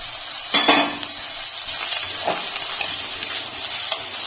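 Onion frying in a pan as grated ginger and chopped green chili go in for a spring roll filling, with a soft steady sizzle, a sharper burst of clattering and stirring early on and a few light clinks after.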